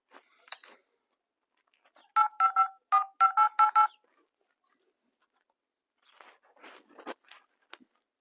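A phone keypad beeps out a quick sequence of dialing tones, close and clear, with faint rustling and small clicks before and after and no talking.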